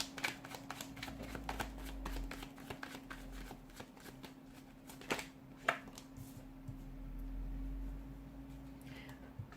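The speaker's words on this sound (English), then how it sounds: "give the cards a shuffle and begin." Tarot cards riffled and shuffled repeatedly at close range, a rapid crisp flutter with occasional sharper slaps, over a low steady hum.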